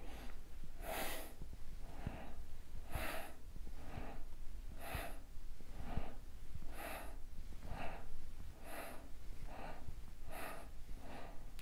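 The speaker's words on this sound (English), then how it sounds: "I'm breathing in and out through my nose." Slow nasal breathing during a seated yoga staff pose, close and audible, with roughly ten steady in-and-out breath cycles at an even rhythm.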